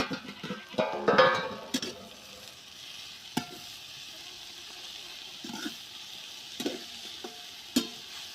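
Dry flat bean pod vegetable (val shenga) being stirred in a pan, with a cluster of scraping stir strokes early, then soft background sizzle and a few isolated clinks and scrapes, fairly faint and close.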